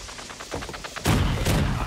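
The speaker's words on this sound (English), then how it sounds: "Grenade!" A grenade goes off in the video game Party Animals: a quick patter of small pops, then a loud, broad burst that rolls on as a dense, rumbling wash to the end.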